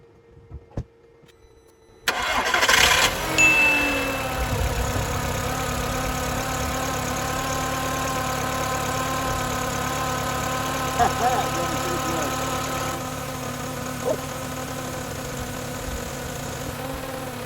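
A Volkswagen New Beetle with a nearly dead battery cranks briefly and catches at about two seconds, then settles into a steady close idle with a faint whine and small clicks over it.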